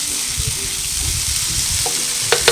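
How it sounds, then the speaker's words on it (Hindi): Masala for mutton paya frying in a pan, a steady close sizzle with soft stirring scrapes and a couple of light clinks near the end, no talking. "देखिए, मसाला बहुत अच्छी तरह से भून गया।"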